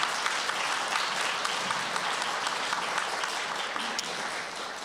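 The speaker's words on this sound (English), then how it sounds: "Let's give them both a round of applause." Audience applause for guest musicians on cello and percussion at a church service, a steady, dense clapping that carries on evenly throughout and tapers only slightly near the end.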